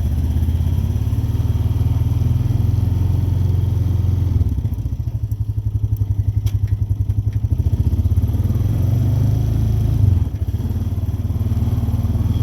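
Honda Rancher 420 ATV engine running steadily close by on a chilly day, a continuous low throbbing drone with a few thumps and rattles partway through, shifting in pitch slightly as it rides, no talking.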